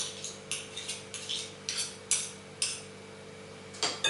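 A spoon scrapes and clinks against a bowl while butter is mashed into flour for stovetop scones, giving about a dozen short, light strokes in an uneven rhythm, close and fairly quiet.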